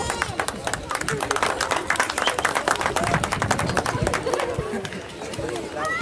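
A crowd applauds at the grand final of a Christmas championship, a dense stretch of rapid clapping that stays steady throughout, with voices and chatter mixed in underneath.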